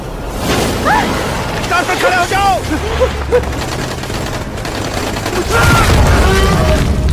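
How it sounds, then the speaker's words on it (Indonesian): A rapid volley of gunshots crackles in repeated bursts, with a voice talking over the shooting and a heavier barrage toward the end. "Para anggota tim pun langsung melakukan serangan tembakan secara berturut-turut"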